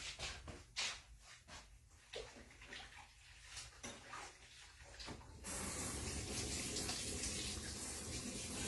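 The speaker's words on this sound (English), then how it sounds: "I'm going to wash my hands again." Tap water runs into a kitchen sink during hand washing, first with splashing and irregular gurgles as hands move under the stream, then settling into a steady loud hiss of running water.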